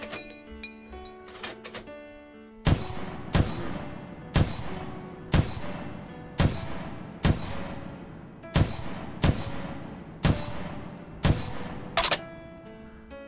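Gun reload and firing in a video game: a series of about eight sharp, loud broadband shots at roughly one-second intervals, each with a decaying tail, following a short clattering reload with faint game music tones underneath.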